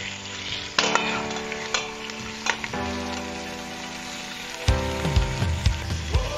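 Beef tripe sautéing in a pan with garlic and onion, a steady close sizzle punctuated by sharp clanks and scrapes of a spatula against the pan, busier stirring toward the end.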